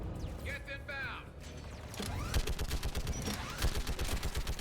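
A mounted turret fires in a sci-fi shooter game, rapid clattering bursts of automatic gunfire with mechanical whirs, loud and close amid other game effects.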